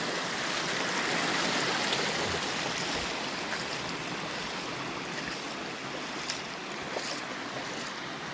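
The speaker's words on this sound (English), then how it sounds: "Pretty little creek though, huh?" Steady rushing of creek water flowing over rocks and bedrock, a broad continuous wash with faint splashes, no voices.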